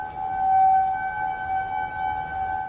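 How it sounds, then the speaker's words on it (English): A steady, sustained warning siren wails at a constant pitch, loud and unbroken, with no voices present. "They are not tornado sirens, they are outdoor warning sirens."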